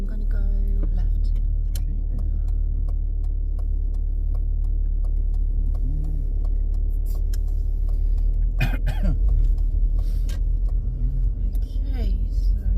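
Steady low engine and road rumble fill a car interior while driving, constant throughout, with people talking over it and a brief cough-like sound.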